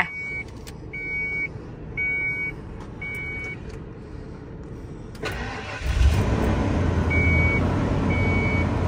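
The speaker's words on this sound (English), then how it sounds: "This is this big old Mack truck startup." A warning chime beeps in a regular rhythm, then the big diesel engine of an old Mack truck cranks and catches, settling into a loud, low idle.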